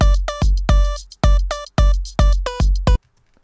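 A dry synth lead plays a short choppy phrase of about eight clipped, evenly spaced notes with bright harmonics, each cutting off cleanly with no echo tail, ending in near silence.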